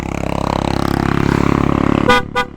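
A Honda CB150X motorcycle engine idles steadily, then two short, sharp horn honks sound near the end, close and loud.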